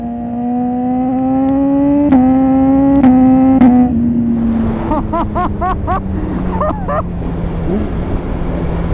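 A BMW S1000RR sportbike engine revs hard, a loud, close, sustained drone whose pitch climbs briefly and then slowly sinks as it holds under steady wind rush, with a few short chirps near the end.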